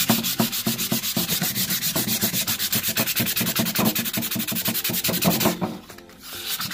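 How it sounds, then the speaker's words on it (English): Sandpaper rubs back and forth over a muti wood table in quick, even strokes. The scratchy rasp is loud and rhythmic, then pauses briefly near the end. "So we're going to finish that with some sandpaper to see if it comes out."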